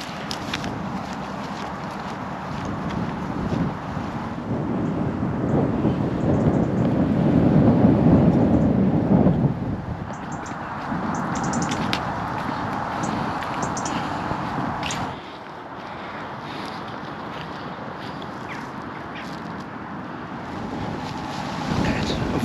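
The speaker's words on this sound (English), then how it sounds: "It's a bit windy up here, obviously." Steady wind buffets the microphone on an exposed hilltop walk near St Margaret's Church in Chipstead Valley, a continuous loud rushing roar that swells mid-way and then eases slightly without ever stopping.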